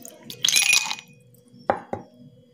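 Ice cubes drop into a glass of chilled summer sherbet with soaked basil seeds: a rattling clatter of cubes, then two crisp separate clinks, close and clear.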